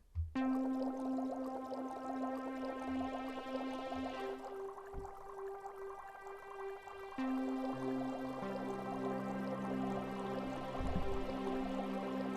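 A General MIDI synthesized bubbling, gurgling tone with sustained pitched layers shifting over time, like water bubbles rendered electronically, playing alone without speech.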